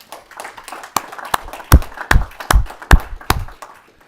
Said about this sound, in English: So give them a round of applause again.